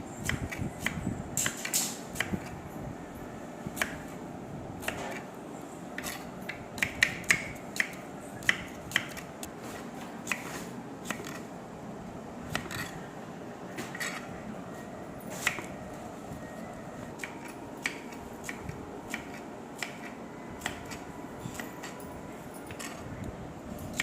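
Knife slicing white onions on a board for Kerala-style onion pakoda, giving a steady run of quick, crisp cutting taps over a low background hum, fairly close, with no talk.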